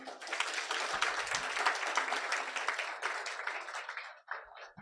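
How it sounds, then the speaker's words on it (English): A conference audience at a Kenyan launch of strategic health security reports applauds the panelists, a steady, dense wash of many hands clapping for several seconds before it thins out and stops. "Okay, let's just clap for them."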